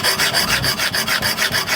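A scissors blade is sharpened with a rapid, even back-and-forth rasping rub, up and down in a steady rhythm of about eight strokes, loud and close, with no voices.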